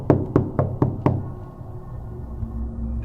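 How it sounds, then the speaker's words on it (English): Five firm, evenly spaced knocks land on a black door, close and loud within the first second or so, then give way to a low, quiet hum with no voices. "The knocking didn't stop."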